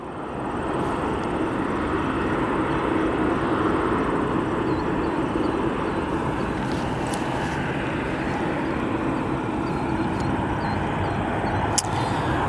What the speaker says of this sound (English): we've got a Boeing 737 Southwest Airlines arriving from Cancun